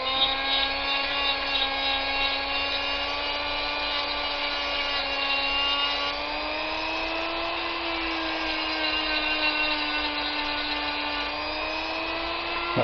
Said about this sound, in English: use something like this, an old Dremel type tool